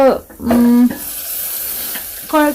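Bitter gourd frying in a pan gives off a steady, fairly loud sizzle throughout, with a voice speaking over it in short bursts.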